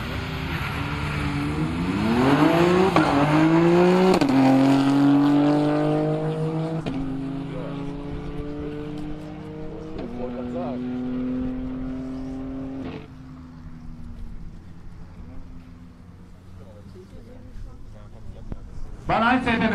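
A BMW X and an Audi A4 launch in a quarter-mile drag race at Brilon in 2023, their engines revving and roaring before fading into the distance while a commentator talks over them.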